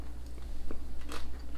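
A Cadbury Milk Tray chocolate with a crunchy honey filling is bitten close up, giving a short crisp crunch followed by soft chewing, with no talking.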